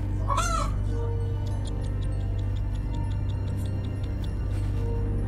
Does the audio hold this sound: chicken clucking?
yes